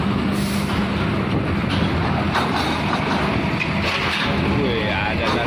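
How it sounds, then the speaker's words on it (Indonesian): An empty Volvo trailer truck rolls off a ferry at Merak port with a loud, continuous diesel rumble and bursts of hissing air, while people talk over the noise. "ini trailer dari Volvo, ya."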